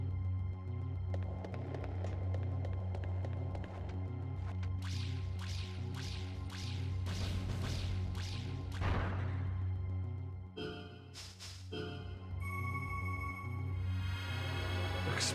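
Explosions in the Nintendo 64 game Hybrid Heaven: a run of sharp blasts and crackling bursts over a steady low game drone, with a heavier burst near the middle and more crackles toward the end.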